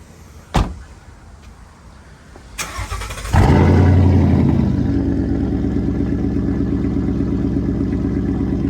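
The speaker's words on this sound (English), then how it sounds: "I want to get the exhaust note when she starts up" A Ford Mustang Bullitt's door thuds, then the engine cranks and roars to life with a loud, deep exhaust rumble that settles into a steady idle.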